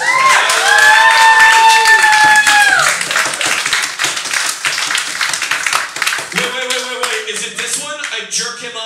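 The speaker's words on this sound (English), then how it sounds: "Can we get a round of applause?" Clapping and cheering from a comedy show audience, loud and dense, with a voice holding a sung note over the first few seconds before scattered claps and cheers continue.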